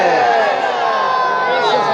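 A large crowd at a religious sermon raises a sustained, droning chant of slogans, many voices blended together and loud throughout.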